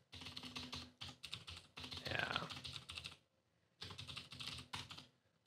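Computer keyboard typing in bursts of rapid keystrokes, close and clear, with short pauses between runs and no speech over it.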